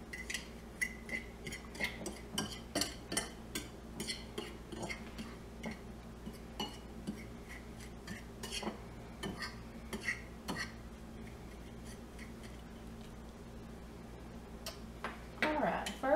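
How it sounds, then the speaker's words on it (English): A spoon stirring a fish taco mixture in a bowl, making steady rhythmic clinks and scrapes against the dish over a constant low hum, with a louder clatter near the end. "we just want to stir this all up really good"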